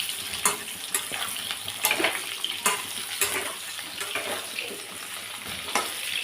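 Pointed gourd (potol) pieces fry in hot oil with a steady close sizzle, broken by scraping and stirring knocks of a spatula against the pan throughout.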